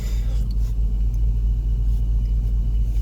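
A Dodge Charger engine rumbles steadily at close range, a deep, even idle with a constant low throb and no change in pace over the few seconds.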